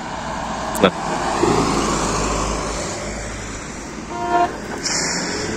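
Cars passing on a road with a brief horn toot, a steady traffic rumble throughout and short honks near the start and toward the end, while someone talks.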